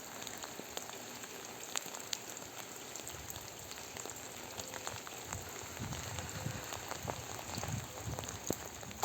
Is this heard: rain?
yes